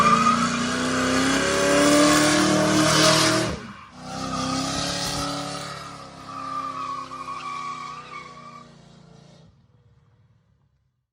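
A 1966 Ford F100 truck fitted with a Crown Victoria swap drives past, its engine roar and tire noise building loud and close, then fading steadily into the distance until silence.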